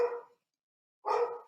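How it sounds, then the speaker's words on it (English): A dog barks twice indoors, two short close barks about a second apart with silence between. "I'll get the dog to shut up."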